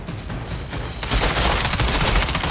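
Gunfire in the Outriders video game: a steady, dense roar of shooting that suddenly grows louder and harsher partway through, then continues unbroken to the end.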